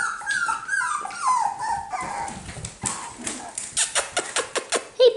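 Young cockapoo puppies whimper and growl in a litter, with high thin whines at first, then a run of short rhythmic yelps and growls toward the end, close and fairly loud.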